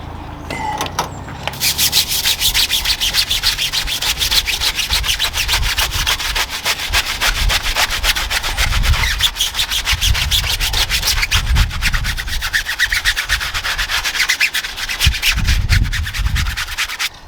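Heavy-handed scrubbing of grease off new tyres and rims, a continuous loud, close rubbing and brushing noise that runs without a break for the whole stretch.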